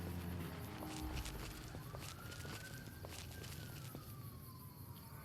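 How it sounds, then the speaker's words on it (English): A faint emergency vehicle siren wails outside a home, its tone gliding up and then slowly falling as it passes at a distance, under a low background hum and scattered small thumps. "sirens outside my home"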